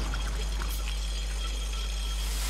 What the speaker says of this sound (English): Let's wait for the water to move away